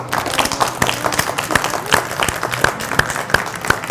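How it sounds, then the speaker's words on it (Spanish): Lively applause from a crowd, dense overlapping claps with a few sharper individual claps standing out, steady throughout. "otro aplauso, porfa"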